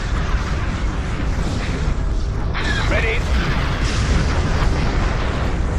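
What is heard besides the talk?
laser cannon blasts and explosions in Star Wars Empire at War video game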